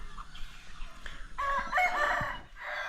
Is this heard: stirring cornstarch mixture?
no